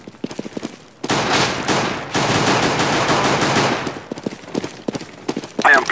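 Rapid automatic gunfire in a competitive Counter-Strike: Global Offensive match, with a few sharp single shots, then long, loud bursts of sustained fire that fill the middle, tapering back to spaced shots and a final burst.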